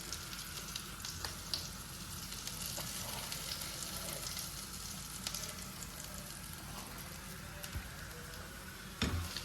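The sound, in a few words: butter and cornflour being mixed in a hot pan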